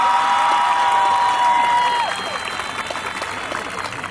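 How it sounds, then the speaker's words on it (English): A graduating high school class applauds itself during a class president's speech, a broad crowd clapping that holds strong and then tapers off slightly, with a tonal whine drifting through the first half. "that alone deserves an applause, so let's give ourselves that"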